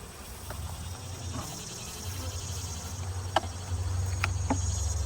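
Honeybees shaken off a hive frame during a Tropilaelaps mite check give a steady, dense buzz at moderate volume, broken by a few sharp taps and knocks near the end.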